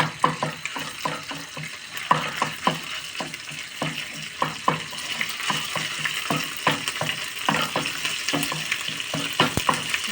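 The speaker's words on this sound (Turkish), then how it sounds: "yağ sıçramaya başladı" Hot oil sizzles steadily in a pan as pepper paste fries and is stirred, with close, repeated crackling spatters and scraping knocks over a continuous hiss.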